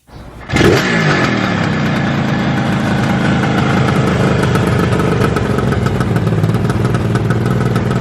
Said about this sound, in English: the sound of a 2-stroke, yeah, that's where it's at.